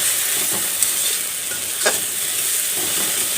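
Chilli powder and three chillies fry in a spoonful of oil, giving a continuous close sizzle with a few soft stirring scrapes and no talk.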